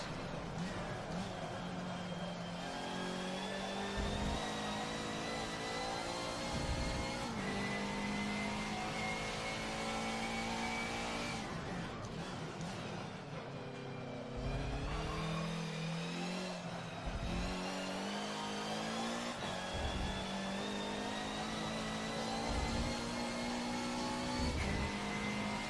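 A race car engine revs continuously on a track near the hangar straight, a sustained mid-pitched whine rising and dropping through gear changes, with brief dips and surges over about twenty-five seconds, moderately faint and steady.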